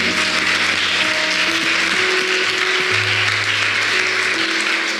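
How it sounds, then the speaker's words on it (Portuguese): Audience claps in sustained applause at a church conference session in Brazil, with a worship keyboard holding chords underneath. "Então aplauda Jesus, porque Ele é digno de toda honra, de todo louvor."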